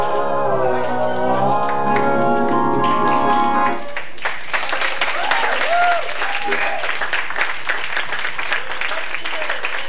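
Audience applause at a sock puppet opera breaks out after a sung passage ends, a loud, dense wash of clapping that continues steadily to the close, with voices mixed in.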